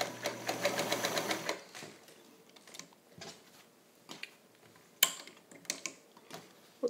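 Singer Featherweight 221 sewing machine stitching a fine short stitch, a rapid rhythmic mechanical whir lasting about a second and a half, then faint clicks and ticks of handling, close and quiet.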